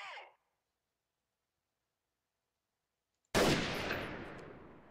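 A sniper rifle fires in the Freeman: Guerrilla Warfare game: a single sharp, loud shot breaks a stretch of near silence and then fades in a long echoing tail, with a brief sound heard beforehand.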